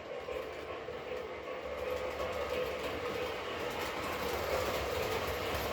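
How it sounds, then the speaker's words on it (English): A small train clatters steadily along its track, a continuous rumbling whir with faint rhythmic clicking, fairly quiet and unbroken. "As the train goes around the track"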